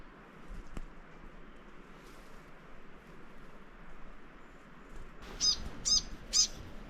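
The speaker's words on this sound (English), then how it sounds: "you can probably hear the birds in the background." Birds calling in Fiordland forest near Doubtful Sound, with faint background chirps and then a few clear, repeated high calls toward the end over a quiet, steady ambience.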